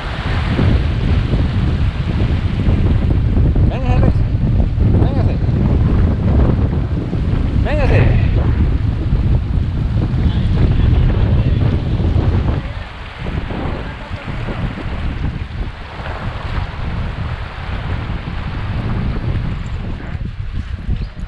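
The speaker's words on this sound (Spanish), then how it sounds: "Mire que están haciendo unas ráfagas de viento bastante fuertes" Strong wind gusts roar across the microphone in heavy, steady buffeting beside the Lempa River in Chalatenango, El Salvador, easing somewhat partway through but continuing throughout, with faint background sounds beneath.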